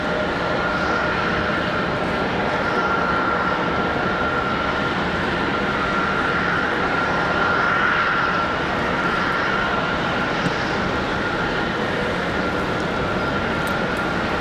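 A Delta airliner, flight 1222, departs Raleigh-Durham International in snowy weather, bound for LaGuardia. Its engines make a steady, continuous roar with a faint sustained tone, heard at a distance without any talk.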